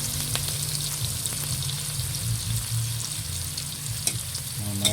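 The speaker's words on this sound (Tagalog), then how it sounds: "Iprito ko din nga po pala itong hotdog muna." Hotdogs frying in a pan make a steady, close sizzle with crackles and occasional stirring clatter, with no voices over it.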